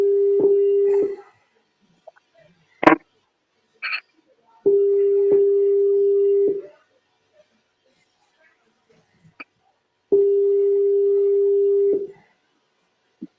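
A telephone tone sounds while calling back a caller during a live call-in discussion, heard as three long steady electronic tones of about two seconds each, separated by silence and brief clicks.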